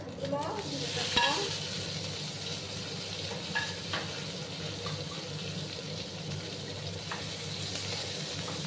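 Eggplant pieces frying in oil in a pan for a Bengali eggplant and hilsa curry. A steady, dense sizzle runs throughout, with a few brief clinks and scrapes as they are stirred. No talking.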